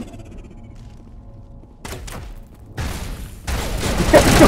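Gunfire in the video game Mass Effect: after a quiet start, sharp shots crack out, then heavier sustained bursts of fire build up and grow louder toward the end.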